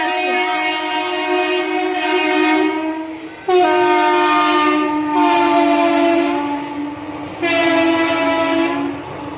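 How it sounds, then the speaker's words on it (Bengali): A large train rumbles past at close range, with repeated loud, sustained horn blasts separated by short breaks. "কত বড় ট্রেন দেখো চলেই যাচ্ছে।"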